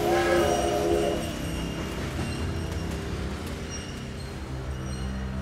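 A train rumbles past at close range, a steady heavy roar with a louder surge at the start that settles into a continuous rolling drone.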